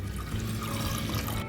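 Water is poured steadily into a pot of soaked lentils for a spinach dal, making a continuous close splashing rush that runs without a break.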